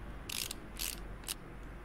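Virtual brake parts are bolted on in Car Mechanic Simulator 2018 with a power tool, heard as three short bursts of ratcheting whirr separated by brief pauses over a steady low hum.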